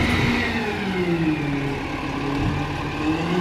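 A garbage truck compacts trash, its engine revving and straining while the hydraulics whine in rising and falling sweeps, loud and close, with no voices.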